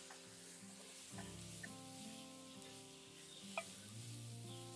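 Tomatoes hitting a hot cast iron pan of boerewors shakshuka over an open fire at a South African nature reserve, giving a soft, steady sizzle and frying hiss with a few brief crackles and no voices.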